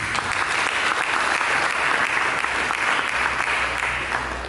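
A church congregation breaks into applause during a preacher's sermon, sustained, thick clapping from many hands throughout.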